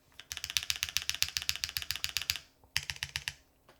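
Crisp, rapid keystrokes clatter on a Tiga by Machina mechanical keyboard fitted with GMK keycaps, a fast run of clicks followed by a short pause and a second quicker burst, close and clear with no talk.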